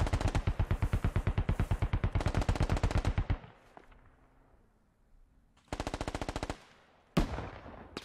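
Sustained machine gun bursts in Squad, a military shooter game set in urban street fighting, with a long rapid rattling string of shots, a pause, then a shorter burst and a single loud crack, close and loud.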